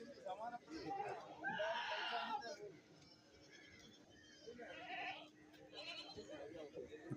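Goats bleat in short bursts at a goat market in Kerala, a few calls spread across the clip, with voices talking quietly between them.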